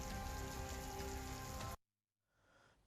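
Unseasonal rain falling in Talala, Gir Somnath, Gujarat, a steady loud wash of rain that cuts off abruptly partway through, followed by a brief quieter stretch of softer rain noise.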